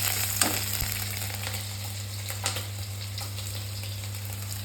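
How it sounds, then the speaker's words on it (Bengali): Crushed garlic dropped into hot oil with a five-spice tempering for cooking dundul shak, giving a steady close hiss over a low constant hum, with a few small clicks from the spoon and pan. "আর দিয়ে দিচ্ছি এই যে ছেঁচে রাখা রসুন"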